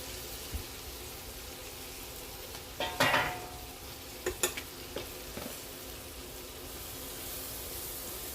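Chickpea flour and chillies being stirred in a pan give off a faint, low sizzle. A few brief scrapes and clinks of a spoon on the pan cluster near the middle, with no talking.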